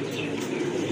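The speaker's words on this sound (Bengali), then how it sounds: "এই যে কাঠের উপরে এটা হচ্ছে আপনার নর কবুতর।" A male pigeon perched on wood at a pigeon sale coos softly, low and faint against a constant noisy background hiss.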